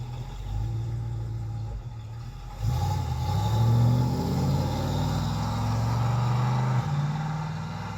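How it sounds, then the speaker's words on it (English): A 1965 Ford Mustang with a rebuilt C4 automatic transmission pulls away on the road. The engine rumbles and revs up, then the pitch drops and climbs again as it shifts into the next gear. The car is moderately close and no one talks. "We hear it going to at least second gear."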